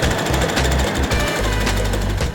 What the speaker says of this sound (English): I'm sewing them together using a 1/4 inch seam allowance.